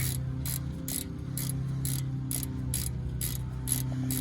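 A ratchet tightening a bolt on a 2019 Subaru Forester, an evenly spaced run of about ten sharp clicking strokes, close and clear over a low steady hum.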